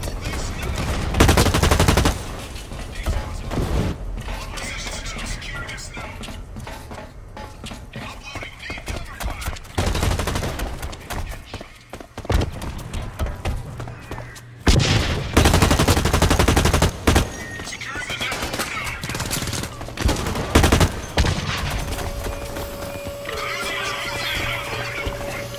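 Loud, dense gunfire in the shooter Blacklight: Retribution, with rapid automatic bursts and single shots coming in clusters over a busy game soundscape, pausing briefly before erupting again.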